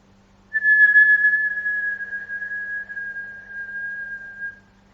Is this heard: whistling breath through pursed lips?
yes